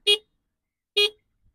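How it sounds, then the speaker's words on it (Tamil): Two short, sharp honks from a Honda Dio 110 scooter horn, close and fairly loud, separated by a second of silence. "ஹார்ன் பொறுத்தவரையில் ஓகே தான், சவுண்டு ஓரளவு லவுடாக தான் இருக்குது"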